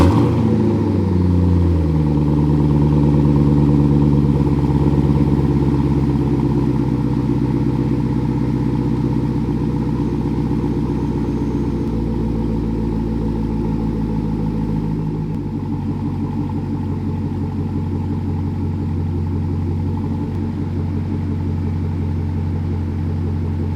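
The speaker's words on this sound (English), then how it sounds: "start it up so you can see the actual turn signals, as well as just get a nice little cold start" A car engine cold-starts and settles into a loud, steady high idle, a close rumbling drone that drops slightly in pitch midway as the revs ease down.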